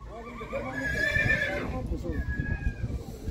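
A horse neighs loudly up close at a Kazakh livestock market, a long shaky whinny lasting over a second, then a thinner fainter call later, with chatter and market bustle underneath.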